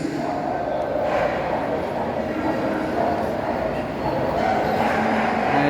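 Dogs bark and yip at a dog show inside a mall in Cebu City, the yaps scattered through a dense, steady crowd din with people talking nearby.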